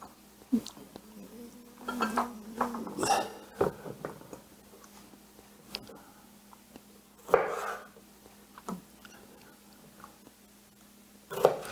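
Washed potatoes and sweet peppers dropped one after another into a pan, scattered knocks and clatters at irregular intervals over a low hum.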